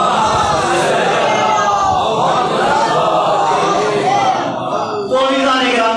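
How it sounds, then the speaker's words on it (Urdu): A crowd at a Muharram religious gathering loudly chants salawat for the Imam of the Age, many voices merging into a sustained dense roar, with a brief dip near the end before the chanting swells again. "امام زمانہ کے لیے بلند ترین نعرے صلوات"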